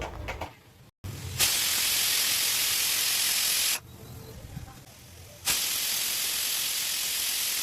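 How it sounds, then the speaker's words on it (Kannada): A pressure cooker on a medium gas flame, cooking green gram and peanuts, lets out loud sustained jets of whistling steam, cut by brief quieter pauses between bursts. "ಕುಕ್ಕರು ಐದರಿಂದ ಆರು ವಿಜಲ್ ಬರೋ ತನಕ ಹೆಸರು ಕಾಳು ಮತ್ತು ಶೇಂಗಾ ಬೀಜನ ನಾನಿಲ್ಲಿ ಬೇಯಿಸ್ಕೊಳ್ತಾ ಇದ್ದೀನಿ"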